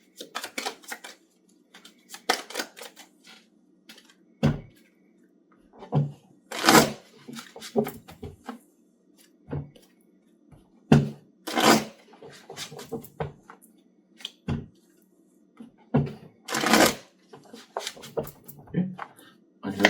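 Tarot cards shuffled by hand in a series of crisp riffles and slaps, loud and close, alternating with brief pauses and a low background hum.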